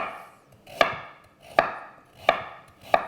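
Knife chopping celery into chunks on a board while making chicken soup, four sharp evenly spaced chops about three quarters of a second apart, close and clear with no talking.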